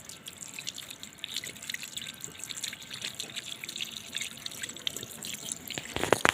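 Water running from an outdoor tap for washing spoons at a construction site, a faint steady trickle and splashing with a few louder drips near the end, no voices.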